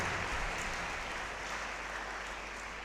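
A church congregation at St. Francis parish applauds during the Feast of St. Francis of Assisi, a faint, distant, even hiss of many hands clapping that holds steady without a break.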